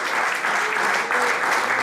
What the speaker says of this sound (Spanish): Denle fuerte ese aplauso porque es para el Señor.